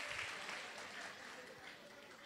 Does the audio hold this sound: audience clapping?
yes